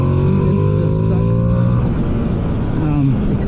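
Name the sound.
Ducati Panigale V2S motorcycle engine and exhaust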